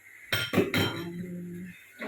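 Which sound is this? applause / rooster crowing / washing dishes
washing dishes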